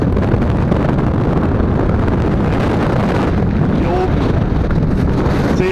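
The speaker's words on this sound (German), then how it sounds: "wir haben Wind hier oben" Strong wind on a beach at Maspalomas, with blowing sand, roars steadily and loudly across the microphone, a dense, unbroken buffeting rush from start to finish.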